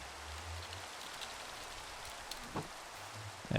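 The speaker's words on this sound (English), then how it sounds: "Dang it, rain." Rain falling in the Minecraft video game, a steady hissing patter at moderate level, broken by a few faint soft thumps.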